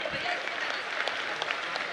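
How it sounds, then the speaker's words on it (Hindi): An audience claps in steady applause at a religious discourse gathering, a fairly loud and continuous spread of many hands. "ताली बजाओ इनके लिए"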